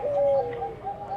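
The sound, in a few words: doves cooing at a bird farm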